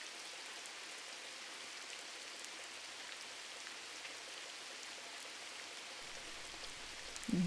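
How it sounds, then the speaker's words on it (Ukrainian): Steady rain falling on a surface, heard as a dense, even hiss of drops that holds at a moderate level throughout, played as a nature sound for a children's game, with a brief thump at the very end. "Дощ."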